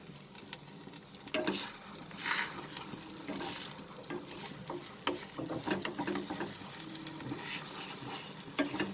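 Tomato egg bhurji with onion is stirred in a frying pan, giving a close, continuous sizzle broken by scraping and clattering spatula strokes, with no voices.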